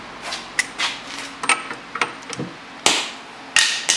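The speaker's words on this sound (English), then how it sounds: "And there goes my screwdriver." A screwdriver drops during rear brake pad, rotor and hub bearing work on a 2011 Cadillac CTS, giving a series of sharp metallic clinks and bounces, loud and close, spread unevenly over a few seconds.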